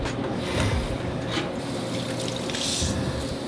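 Water runs from a hose into a kitchen sink, a steady, close rushing and splashing that continues throughout.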